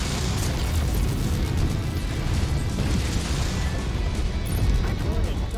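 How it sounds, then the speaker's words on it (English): A loud, rumbling explosion in the mech combat game MechWarrior 5 rolls on as a continuous low roar of blast and debris, with a voice talking over it at times. "Don't like the explosion."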